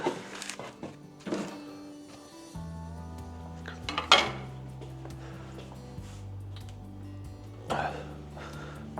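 Pide dough being moved onto a baking dish gives a few scattered clunks and clatters of the dish and utensils, with some ringing tones, all fairly quiet against a calm kitchen background.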